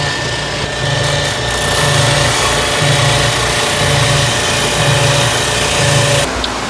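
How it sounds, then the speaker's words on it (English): A spindle sander rounds the corners of a wooden handle, with a steady motor hum running throughout. A pulsing grind swells and fades in regular waves as the wood is worked against the drum. "we're gonna sand the handle and round the edges on all the corners here on the spindle sander"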